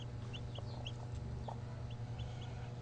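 Faint chicken clucks and soft chirps sound sporadically over a low steady hum, a few short calls scattered across the background.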